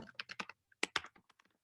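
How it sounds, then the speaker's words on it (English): Typing on a computer keyboard, a quick irregular run of close, crisp key clicks in bursts with short pauses, alone in a quiet room. "I'm typing in the chat"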